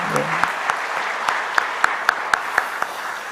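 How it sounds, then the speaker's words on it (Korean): A church congregation claps during a Sunday worship service, a brief round of applause with distinct sharp individual claps standing out over a softer crowd patter; a voice speaks briefly at the start. "다시 한번 박수 한번 합시다"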